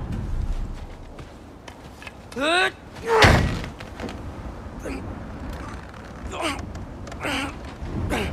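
In the God of War Ragnarok video game, a frozen door is forced open with a sharp thud and a loud heavy crack or slam near the middle, amid effortful grunts and voices talking around it.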